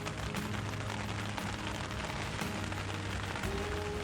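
Steady rain pattering on a surface, a dense hiss with scattered drop ticks throughout, with no voices.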